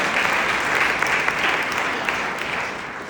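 Listeners at a city address break into a short burst of applause, thick and continuous clapping from a sizeable crowd with no voices on top.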